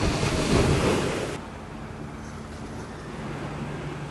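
Waves at the beach rush and break close by with heavy wind buffeting at first, then settle into a softer, steady wash of surf.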